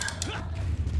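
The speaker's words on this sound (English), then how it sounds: "Hey, it's that dog." A dog in the video game Resident Evil 4 gives short yips and barks with a whimpering edge, close and fairly loud over a steady low background hum from the game.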